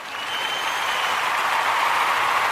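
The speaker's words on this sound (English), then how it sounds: "Let's give Mr. Wally a round of applause." An audience gives a round of applause for a host on a daily comedy show, a steady wash of clapping that swells quickly and holds evenly for a couple of seconds without talking.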